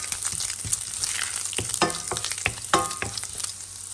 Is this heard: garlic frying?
yes